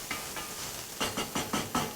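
Onions fry gently in olive oil in a pan, a soft steady sizzle with a few brief crackling pops toward the end, quiet and close.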